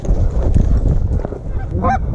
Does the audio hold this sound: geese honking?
yes